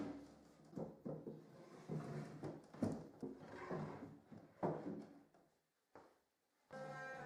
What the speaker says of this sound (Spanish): agregué un poco de cera de vela a los corredores. Esto facilitaría el deslizamiento de los cajones.